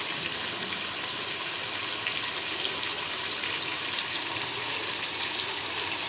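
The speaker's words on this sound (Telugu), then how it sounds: "ఆయిల్ వేసుకొని చికెన్ ముక్కలు వేసేసుకోండి" Raw chicken pieces hitting hot oil in an open pan on high flame make a loud, dense, continuous sizzle that holds steady throughout without pause.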